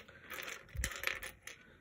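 A string of small glass buttons clinks and rattles as it is handled, making light, scattered clicks and a soft tumbling jingle up close.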